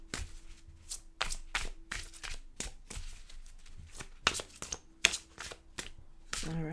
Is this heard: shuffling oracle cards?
yes